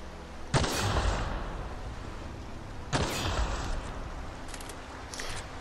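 Two sharp pistol shots in The Outer Worlds, each a loud close crack followed by a rumbling tail, about 2.4 seconds apart over a steady game-ambience bed.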